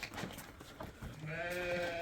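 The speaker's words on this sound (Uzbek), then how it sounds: "O'ta xo'ra qo'ylar." A sheep bleats once in a pen, a faint, wavering cry rising near the end after a moment of quiet shuffling nearby.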